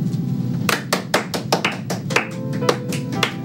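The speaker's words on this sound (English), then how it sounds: "Everyone, round of applause for Mac Webley." A small group of people claps for a guest on a talk show, with a few distinct, loud, close hand claps standing out over a quieter background of scattered clapping.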